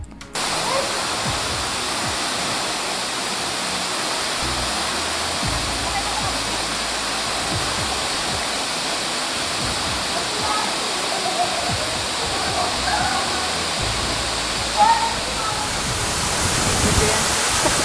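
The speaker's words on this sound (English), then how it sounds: "The highlight in this trail is the Ubud Falls." Ubud Falls on a mountain trail in Luzon, Philippines, roars as a steady, dense wash of falling water, loud and close, continuous for the whole stretch.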